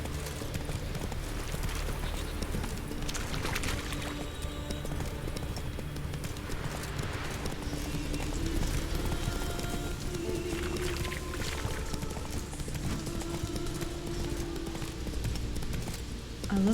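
A horse's hooves clip-clop at a brisk ride in The Witcher 3, a continuous rhythmic clatter of hoofbeats close by, with game ambience underneath and no talk.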